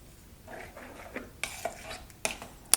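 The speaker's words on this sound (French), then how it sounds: "Je reprends ma cuillère et je viens mélanger." A metal spoon stirs grated cheese into a ground beef and potato gratin mixture, with a few soft scraping strokes followed by sharp clinks against the bowl, close and without speech.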